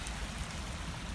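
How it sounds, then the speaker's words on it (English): Wet mix of rain and snow falling outdoors in British Columbia, a steady, even hiss of precipitation with no distinct drops standing out, continuous and fairly loud. "It's kind of like half rain, half snow."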